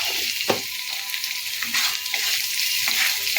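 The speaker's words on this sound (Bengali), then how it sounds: "একটু নেড়ে চেড়ে নেব" Salted potatoes and vegetables are stirred in a hot pan, with a steady sizzle broken by several sharp scraping strokes of the spoon, heard close and without speech.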